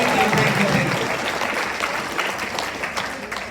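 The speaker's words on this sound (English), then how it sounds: "big round of applause for the volunteers" An audience applauds volunteers at a school event, a dense burst of clapping that starts strong and gradually thins and fades toward the end.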